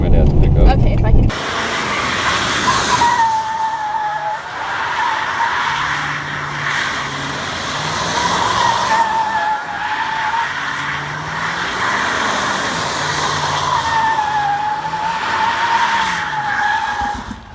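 A Chevrolet Camaro drifts on a street with long, wavering tire squeals and skids over a revving engine, loud and close, with occasional voices.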